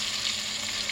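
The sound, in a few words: deep frying food in oil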